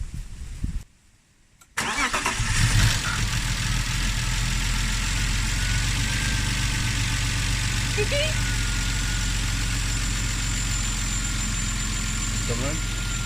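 A BMW E36 with an M50B30 stroker engine fires up for the first time: a short crank, then the engine catches and settles into a loud, steady idle that runs on with a rough undertone.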